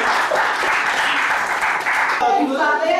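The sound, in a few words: applause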